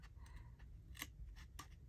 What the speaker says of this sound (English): grab my scissors and just curve around